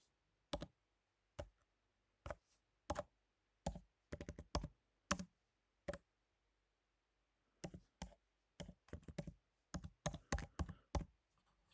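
Quiet keyboard keystrokes from typing text into a Canva design, in scattered single taps and quick clusters with pauses between, in an otherwise silent room.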